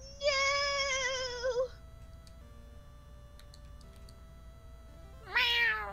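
A cat meows twice, first a long, drawn-out wavering cry, then after a quiet pause a second rising meow begins, both fairly close against a soft background with faint ticking.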